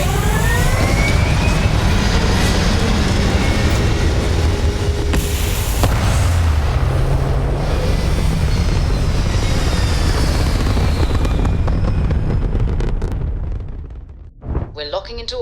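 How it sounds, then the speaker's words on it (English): Spaceship thrusters fire in Starfield with a loud, sustained broadband roar, rumbling and hissing steadily for most of the stretch before dropping away near the end into a few scattered thumps. "All thrusters firing."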